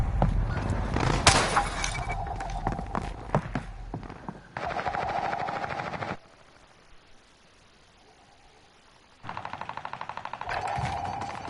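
Pistol gunfire in the Warzone battle royale video game, with sharp shots cracking in quick bursts amid clattering action, then a quiet gap before more rapid repeated firing resumes.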